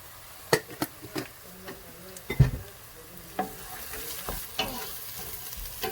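Onions frying in a pan for a duck meat curry, with a low steady sizzle under repeated sharp clinks and scrapes of a spatula stirring, fairly close and moderately loud, no voices.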